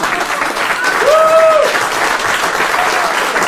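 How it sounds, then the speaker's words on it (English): An audience applauds a performer named Dan, with dense, continuous clapping from a crowd that swells slightly in the middle while a brief whistle-like tone sounds over it. "Round of applause for Dan."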